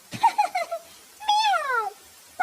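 A cartoon black cat gives several meows: a quick cluster of short mews, then a longer drawn-out meow, and another starting at the end, all clear and close with quiet pauses between.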